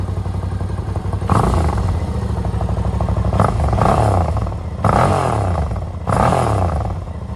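A Suzuki V-Strom 650 motorcycle with a modified exhaust idles with a deep, lumpy exhaust rumble, punctuated by a few brief throttle blips that swell louder before settling back.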